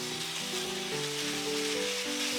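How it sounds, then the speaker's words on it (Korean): Potatoes and pork belly stir-frying with seasoning sauce for a Korean jjageuli, a steady close sizzle with soft bubbling and no talk, while faint music plays underneath. "감자랑 고기랑 양념이 잘 어우러지도록 1분 정도 같이 볶아주시면 됩니다."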